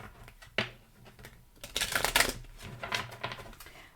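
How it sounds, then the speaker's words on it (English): A deck of tarot cards is shuffled for a love reading, giving dry papery riffles and flutters in bursts, with a denser stretch of rapid shuffling in the middle, close and moderately quiet. "Okay, we're nearly done with shuffling."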